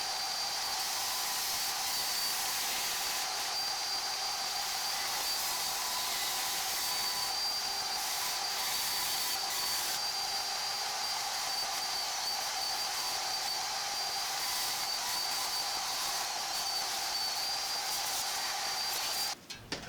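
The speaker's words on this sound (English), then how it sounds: "we'll switch over to the bandsaw, because it's easier to get a nice clean cut" A bandsaw runs steadily while cutting a chunk of wood for a kickball trophy, giving a continuous bright whine and hiss that holds for the whole stretch, with a brief clatter as it ends.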